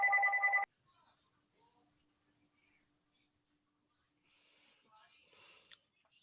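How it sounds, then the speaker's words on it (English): A phone rings briefly and loudly at the start of a video call, then quiet faint room sounds and soft murmuring follow. "You guys hear my phone?"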